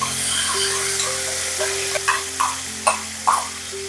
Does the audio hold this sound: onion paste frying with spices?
yes